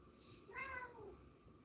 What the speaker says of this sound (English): He's meowing and purring.